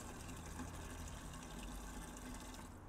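Water runs from a garden water butt into a container in a greenhouse, a steady close gushing pour with no pauses and no voices.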